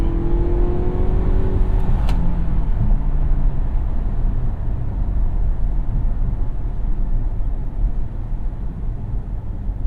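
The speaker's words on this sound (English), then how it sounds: "That did have a lot of wheel spin on the launch." A 2017 Cadillac CT6 with a 2.0L turbo engine launches hard with wheel spin, its loud engine note climbing and the car accelerating steadily across the whole stretch, heard from inside the cabin.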